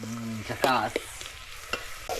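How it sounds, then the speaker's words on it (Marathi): Spices for a tempering sizzle and pop in a hot pan as a utensil stirs them, with scraping strokes over steady frying hiss. "आता आपली फोडणी आहे ना मस्तपैकी परतून झाली आहे"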